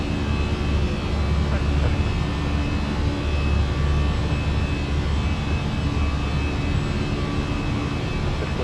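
Fenix A320 jet engines in a flight simulator climbing after takeoff, a loud steady roar with a faint tonal hum running throughout, continuous and close.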